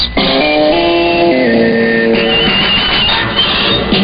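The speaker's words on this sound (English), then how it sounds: "Our sports signature sounds like this." A short brassy sports signature jingle on WCBS 880 AM radio plays, sustained chords stepping through a brief melodic phrase before a busier, noisier tail, loud and up front.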